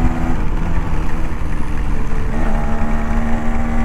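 A Yamaha RX 135 motorcycle's two-stroke engine buzzes loud and close while cornering, a steady throbbing note with slight pitch changes as the throttle shifts.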